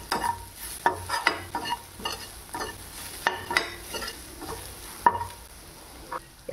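Cumin and coriander powders stirred and fried for a masala dosa potato filling, with a utensil scraping the pan in uneven strokes over a soft, steady sizzle.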